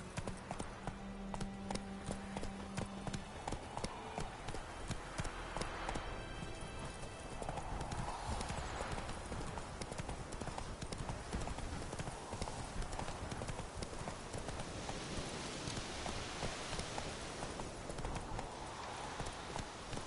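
Horse hooves clip-clop in a steady walking rhythm as the animal is ridden, mixed into a dense, noisy fantasy-drama soundtrack with a faint whinny-like tone early on.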